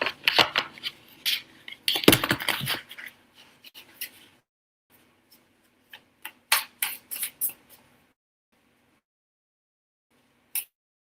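Tarot cards are shuffled and handled close by, giving crisp bursts of riffling and slapping followed by a few sparse taps and clicks with quiet gaps between.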